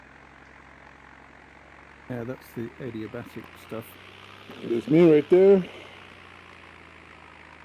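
A propeller tow plane flying near a ridge gives a steady, faint engine drone in the background, while someone talks over it in short bursts.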